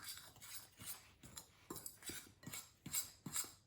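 Dry ingredients for cinnamon rolls—flour, salt, dry yeast and sugar—are stirred in a bowl with a spoon, giving repeated quiet clinks and scrapes in an irregular rhythm, close and faint.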